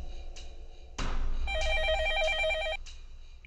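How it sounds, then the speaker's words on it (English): A telephone rings in the Fate/Stay Night Heaven's Feel video game, a clear warbling electronic ring in one sustained burst over a low background hum. "The phone rings"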